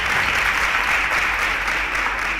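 A studio audience applauds a contestant on a televised quiz show, a steady dense wash of clapping that stays loud and even from start to finish with no voices over it.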